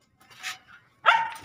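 Pet dogs barking in greeting outdoors on a street, a couple of short yips followed by a louder, longer bark close by.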